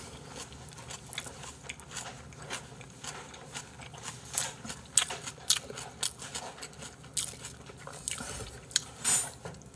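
Crunchy chewing of apple kimchi, close and steady, with repeated crisp bites and wet mastication in an uneven rhythm, and no talking over it.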